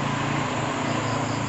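A frog calls at night near houses, a loud, dense, unbroken chorus-like drone that holds steady throughout, with no voices.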